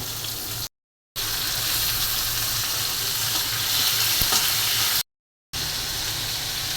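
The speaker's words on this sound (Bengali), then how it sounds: "রুই মাছটা দিয়ে দিচ্ছি। চিংড়ি মাছটাও পেঁয়াজের সাথে ভেজে নেব।" Rohu fish and shrimp fry with onions in a hot pan, giving a loud, steady sizzle with occasional stirring scrapes, broken by two short silent gaps.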